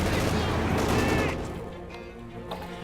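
Mortar and artillery fire in the strategy game Company of Heroes 2 produces a loud rumbling volley of blasts that fades into a lower battle din with a faint later thump.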